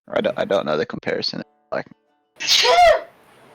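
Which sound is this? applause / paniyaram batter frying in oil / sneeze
sneeze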